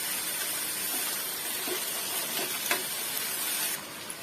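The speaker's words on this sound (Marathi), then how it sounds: "कांदा बटाटा दोन्ही एकत्र फ्राय करून घेते" Onion and potato frying together in hot oil make a continuous, even, close hissing sizzle with faint pops and no voices.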